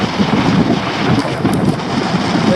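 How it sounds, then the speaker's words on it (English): Steady, loud wind buffets the microphone on a hilltop in the Rogue's Roost wilderness near Terence Bay, Nova Scotia, a continuous rough rumble with no pauses. "And it is windy as always up here."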